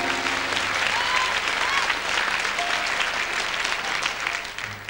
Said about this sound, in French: que vous applaudissez aussi fort que la première